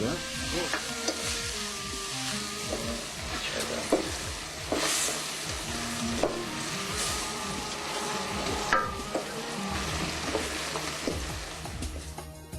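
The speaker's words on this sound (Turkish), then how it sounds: "Soğanlar ince doğranarak kavrulur bol tereyağında." Finely chopped onions frying in plenty of butter give a continuous close sizzle, with occasional scraping and stirring sounds from the pan throughout.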